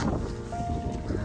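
Strong evening wind buffets the microphone outdoors in a steady low roar, with a faint voice briefly underneath.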